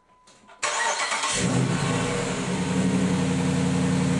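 Dodge Caliber car engine cranking briefly and catching, then settling into a steady, loud idle close by with no talking.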